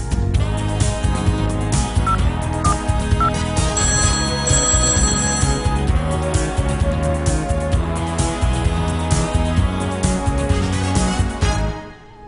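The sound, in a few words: telephone ringing, calling the lucky caller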